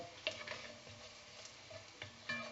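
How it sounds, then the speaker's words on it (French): Shallots browning in a pan, a faint, low sizzle with occasional scraping stirs and small ticks close by, no voices. "Je fais rissoler des échalotes."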